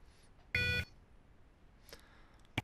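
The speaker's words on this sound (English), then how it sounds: "depressing the option select button for 3 beeps, and you'll get a response back for 1 beep" A single electronic beep from a radar clock's option select button, short, bright and tonal, followed by a couple of faint clicks in a quiet room.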